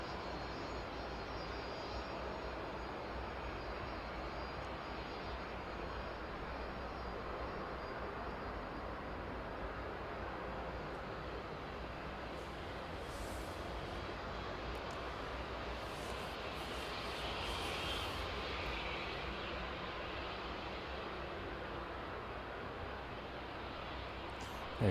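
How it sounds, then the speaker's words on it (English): Aircraft taxiing to its stand at East Midlands airport, a steady distant engine whine and broad hum held evenly for the whole stretch, fairly faint with a slight swell midway. "Stick with this one as it makes its way on to stand."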